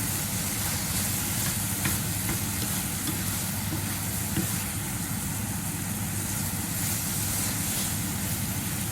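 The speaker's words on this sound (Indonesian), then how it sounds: "Sudah habis, tetap kita aduk-aduk" Green beans stir-fried in a pan, with a steady, continuous sizzle and occasional soft scraping of stirring, close and even throughout, no talking.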